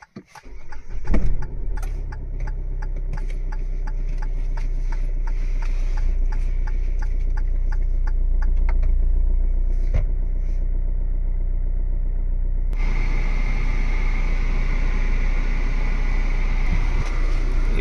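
A 2019 Hyundai Creta mid-variant diesel car engine runs at a steady idle, a constant low hum with a faint clatter that holds throughout, and a brighter hiss, like a fan or blower, joins partway through.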